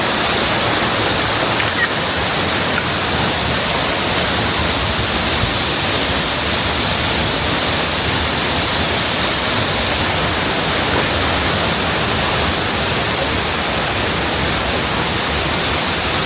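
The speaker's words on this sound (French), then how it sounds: "Voilà les gars, la première cascade." A large waterfall on Lombok island, Indonesia, roars in a steady, dense broadband rush that stays loud and unbroken throughout, with no talking over it.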